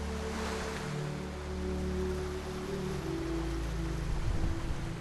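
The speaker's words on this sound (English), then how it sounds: "Strong wind brings high waves." High sea waves driven by strong wind crash along the basalt coast of Penghu, a steady loud roar of surf with low rumbling swells throughout and no voices.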